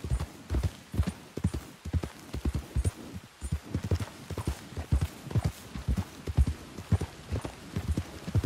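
Horse hooves clip-clop in a steady, close rhythm as horse carriages pass through a rainy street in Red Dead Redemption 2, with faint game ambience around them.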